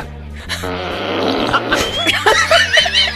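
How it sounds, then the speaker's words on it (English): Wet fart sound effect played from a voice-activated novelty gadget: a loud, close, bubbly, sputtering rasp that stretches out over several seconds, with a voice and some laughter mixed in. "Here comes a wet fart."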